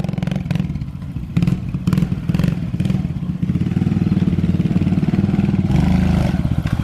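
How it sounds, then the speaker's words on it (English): Pit bike engine revs hard while being ridden, a loud, close, buzzing mid-pitched drone that rises and falls through throttle changes with some clatter. "we're just riding TJ's pit bike"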